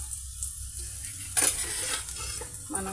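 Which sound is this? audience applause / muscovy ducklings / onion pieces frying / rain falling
onion pieces frying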